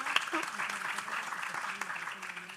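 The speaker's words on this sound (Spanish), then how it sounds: "Hola, acá es donde aplaudían." Light audience applause at a translation program event held with the Embassy of Ireland. Scattered, modest clapping sounds under background chatter and murmuring voices.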